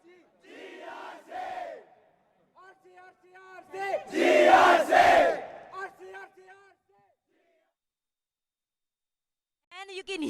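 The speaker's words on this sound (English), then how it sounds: "you can hear the shouting, the cheering, the hooting right now of Gujarat Technological University." A Gujarat Technological University team at the ABU Robocon 2023 India finals shouts, cheers and hoots in loud crowd bursts, swelling to a peak midway, separated by quiet gaps.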